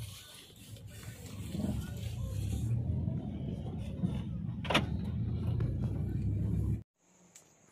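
A car idles nearby with a low, steady engine rumble while waiting for passengers, a brief mechanical whir and clunk partway through, before the sound cuts off abruptly near the end.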